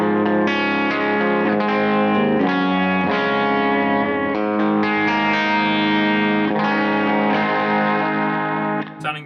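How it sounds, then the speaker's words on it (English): Electric guitar on the bridge pickup through a Vox AC30 amp profile with distortion, played alone as sustained, ringing chords and notes, loud and steady throughout, fading at the very end. "So now I've changed my profile to a Vox AC30. This is my typical kind of distortion tone"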